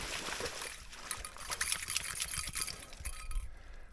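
Cold water trickling and gurgling through the one open spot in an iced-over stream, steady and fairly close with small splashy bursts throughout.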